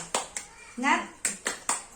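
A group of mothers claps a rhythmic spirit-clap routine: sharp claps in a quick pattern with a short gap, and a voice chants briefly in the middle.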